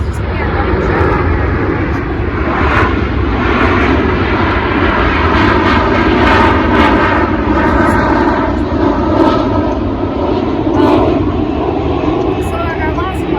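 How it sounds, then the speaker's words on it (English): A propeller airplane passes overhead, its steady droning engine hum filling the background loudly and continuously throughout, with a voice talking over it. "So let this plane go by"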